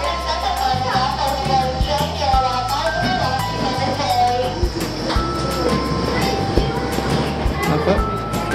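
Small amusement park choo-choo train ride at Gilroy Gardens rumbling steadily with rail clatter and squeaks throughout, close and continuous, with people talking over it.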